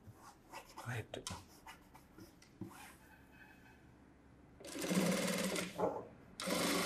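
Sewing machine stitching a blouse, running in fast bursts with a rapid mechanical whir, the longest stretches near the end, between quieter handling noises and brief speech.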